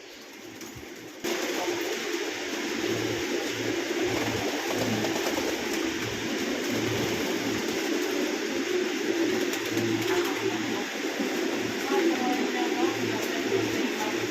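Pigeons coo in a pigeon loft, low repeated throaty calls pulsing steadily under a constant rushing background that jumps up after the first second and holds to the end.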